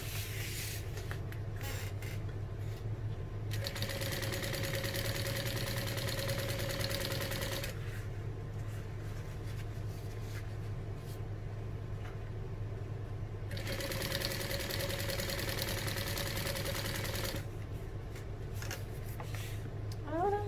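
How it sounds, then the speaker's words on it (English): A sewing machine stitches a vintage-style barrel bag in steady bursts of a few seconds each, a close, even motor whir broken by short pauses, with a low hum running underneath throughout. "So I'm just lining these up as I go, sewing to my fingers and stopping."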